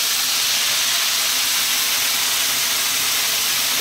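Fish sauce poured into a hot pan with fried garlic sizzles in a loud, continuous hiss, even and close, without pauses or speech.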